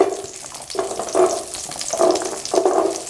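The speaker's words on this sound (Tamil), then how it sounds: "இதில் நாம் கழுவி வச்சுருந்த சின்ன வெங்காயத்தை சேர்க்கலாம்." Small onions dropped into about two spoons of hot sesame oil for a Tamil brinjal gravy, giving repeated bursts of close frying sizzle with stirring between them, with no talk.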